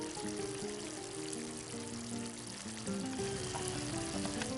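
Lobster tail sizzling in paella cooked over an open fire, a steady, close crackling hiss that carries on without pause, with tonal music running underneath.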